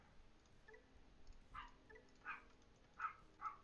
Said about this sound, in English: I do apologize for my dogs barking.